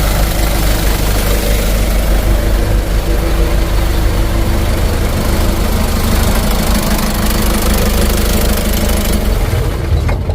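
A small diesel engine, partway through plunger adjustment, idles loud and steady with a low, knocking chug, then its tone shifts near the very end as it is shut down.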